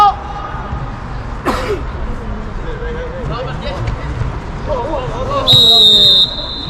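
Referee's whistle at an under-19 provincial youth football match in Italy, one sharp sustained blast near the end, heard over outdoor field noise and shouting players and spectators.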